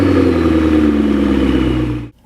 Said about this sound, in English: another cool feature of the 650S, and that would be how it sounds.